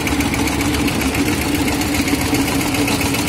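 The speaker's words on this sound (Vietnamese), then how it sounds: "Đang rô đai dàn xích đào." Diesel engine of a TFC 250 chain trench digging machine running steadily, a loud continuous rumble with a mechanical knock and vibration, close by with no talk.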